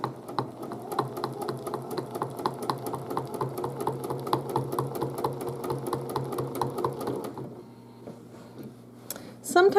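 A sewing machine stitches a quilt with a steady, rapid run of needle strokes that stops partway through, followed by a brief quiet stretch and a short rustle at the end.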